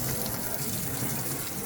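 A steady hiss of sprayed water rushes continuously and close as a duck is hosed clean on a homestead, with no pauses.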